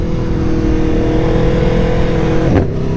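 An Aprilia Tuono V4 1100 motorcycle engine drones steadily and loudly under acceleration, with a brief dip and change in tone near the end as it shifts gear.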